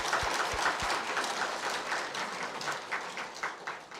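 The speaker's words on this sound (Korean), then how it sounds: "그 장학금을 마련해 주신 본공회원님들께 큰 박수 드립니다." Audience applause for members who raised scholarship funds at a Won Buddhist gathering, steady even clapping lasting throughout at moderate level, with no talk over it.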